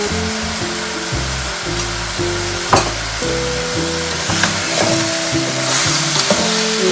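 Cow meat for a shatkora dish fries over a high flame, giving a steady, loud sizzle with a few stirring scrapes, over a tonal musical backing throughout.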